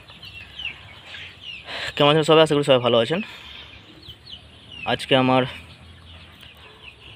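Month-old broiler chickens cluck and call in a couple of loud bursts from a nearby flock, while someone talks over the birds.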